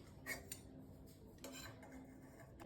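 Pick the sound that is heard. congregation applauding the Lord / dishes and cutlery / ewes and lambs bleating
dishes and cutlery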